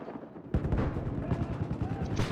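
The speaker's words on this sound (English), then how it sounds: "And another grenade launcher grenade." Grenade launcher grenades exploding in Battlefield 4, a sudden heavy blast followed by a rumbling rattle of further impacts and gunfire, with a voice faintly present in the mix.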